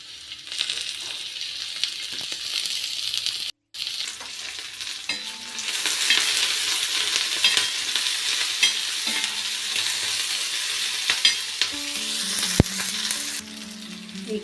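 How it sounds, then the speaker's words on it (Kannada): Sliced onions frying in oil in a pan while being stirred, giving a continuous loud sizzle with scraping strokes, one brief silent gap and a metallic clink near the end. "ಈಗ ನಾವು ಈರುಳ್ಳಿನ ಫ್ರೈ ಮಾಡ್ಕೊಂಡೇವಿ"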